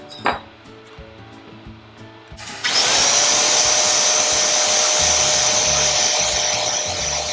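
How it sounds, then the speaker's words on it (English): An electric hand mixer whirring steadily through low carb vanilla custard, a loud continuous motor whine starting after a few seconds of clinking. "To make sure everything's thoroughly mixed together, I'm going to use the hand mixer."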